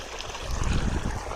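Water gushes steadily from a motor pump pipe into standing water, a continuous rushing, splashing wash that swells slightly louder midway, close by and without speech.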